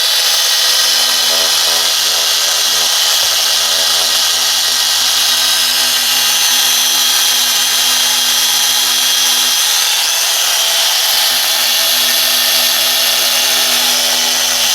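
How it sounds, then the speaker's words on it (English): A power sander fitted with 240 grit sandpaper runs steadily and loudly throughout, a continuous broadband whir with a faint low hum beneath that shifts briefly as the tool is repositioned. "Back with another sander."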